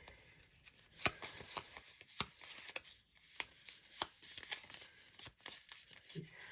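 A deck of cards is shuffled up close, with several quick riffling bursts and soft flicks separated by short pauses.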